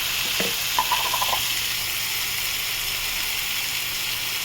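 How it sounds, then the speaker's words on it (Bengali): Chopped onion frying in a pan, a steady close sizzle with a few quick scraping stirs near the start, then continuous frying alone. "পেঁয়াজটা আমাকে মোটামুটি ভাজা হচ্ছে।"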